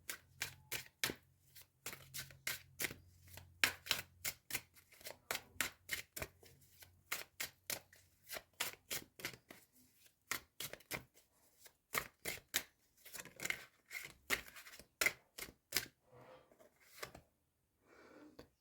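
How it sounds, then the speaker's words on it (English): Rapid riffle-shuffling of tarot cards, a long run of crisp papery bursts in quick rhythmic succession, close and clear with no talking. "shuffle for the rest of your cards"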